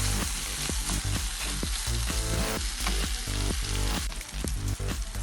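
Fish keema cooking over a high flame: a dense, loud, unbroken sizzle and crackle of hot oil filling the whole stretch, with faint stirring underneath and no voices.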